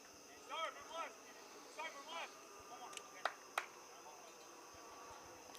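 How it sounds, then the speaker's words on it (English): Crickets chirp faintly in the background at an outdoor amateur soccer match, a few short chirp bursts in the first seconds followed by a couple of sharp ticks, all over a quiet hiss. "As you can hear the crickets in the background,"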